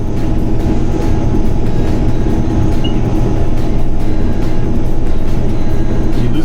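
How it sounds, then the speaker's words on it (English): A combine harvester offloading wheat while driving across a flat field gives a loud, steady, droning engine and machinery rumble throughout, with no talk. "Since we are at a nice flat spot, we can offload the wheat while driving."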